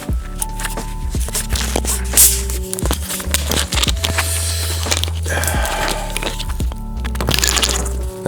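A can of American Fanta cracks open with a sharp snap and fizzing hiss up close, followed by handling clatter and low rumble.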